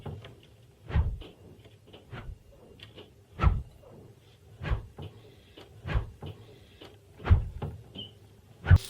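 Panelled wooden lathe stand cabinet doors are closed repeatedly, about a dozen soft wooden thuds and knocks spaced irregularly, close by and alone with quiet pauses between.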